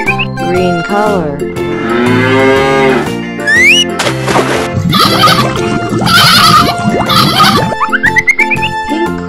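A cartoon cow gives a drawn-out moo among playful farm-animal sound effects and bouncy cartoon noises in a children's animation.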